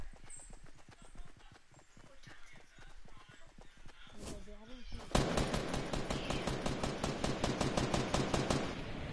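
Rapid gunfire in the Fortnite video game, a long run of sharp, evenly spaced shots that starts abruptly midway and keeps firing steadily and loudly to the end, with game sounds before it.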